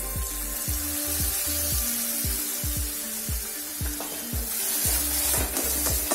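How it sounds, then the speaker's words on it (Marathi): Onion and coconut masala roasting in oil in a pan for a village-style black masala paste, a steady close sizzle with repeated scraping stir strokes throughout, no voices. "मसाल्याला एकदम तेल सुटतोपर्यंत आपल्याला हा भाजून घ्यायचा आहे"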